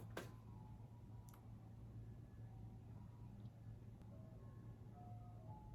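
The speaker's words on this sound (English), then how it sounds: "Is that an ice cream truck?" An ice cream truck's tinkling jingle drifts in very faintly from far off, its thin melody notes scattered over a low room hum, with a couple of soft clicks and no talk.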